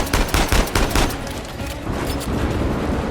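Gunfire in Uncharted 4, a dense cluster of rapid loud shots and booms in the first second, then a rumbling tail of further firing and impacts, close and intense.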